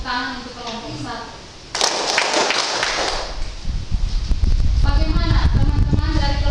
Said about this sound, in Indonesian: Mari kita berikan tepuk tangan untuk kelompok 1.